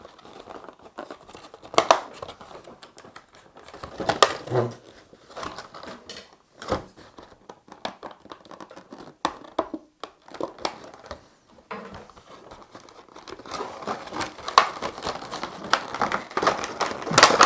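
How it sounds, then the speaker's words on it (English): Tape is peeled and crinkled off the packaging of a Bandai Thunderbirds toy vehicle, close-up, with irregular crackles, rips and rustling plastic that grow busier toward the end, and no voices. "So let's get the tape off."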